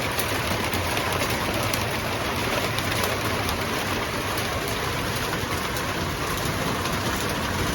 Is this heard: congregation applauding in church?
no